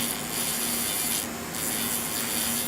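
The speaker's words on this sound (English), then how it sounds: "I'm just filing the side of my nail using my sanding band." Steady, even rasping of a sanding band filing the side of a fingernail, continuous and close, with slight rhythmic variation and no talking.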